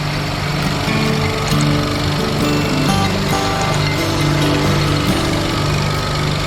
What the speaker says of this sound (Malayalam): ഒരു മെഷീൻ വെച്ചിട്ടും അവരതിനെ പീസാക്കി മാറ്റുന്നുണ്ട്